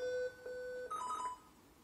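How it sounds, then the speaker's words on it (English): Glitched Super Mario 64 pause-menu chime, distorted by tilting the cartridge: a short run of bright electronic beeps and warbling tones, close and clear, with no voices. "Oh, you want to hear the pause menu?"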